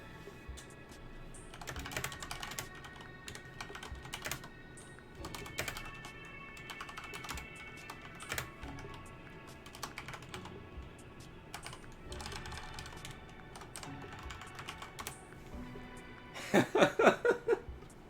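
Rapid typing on a computer keyboard clatters close to the microphone in uneven bursts, ending with a few louder, heavier key strikes, with faint chuckling at one point.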